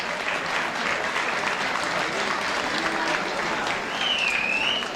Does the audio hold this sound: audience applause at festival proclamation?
yes